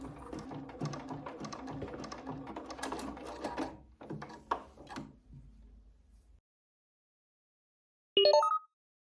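A sewing machine stitches in a fast, steady mechanical clatter for several seconds, stops, restarts briefly in shorter bursts, then falls silent before a quick, sharp click of the hands-free thread cutter near the end.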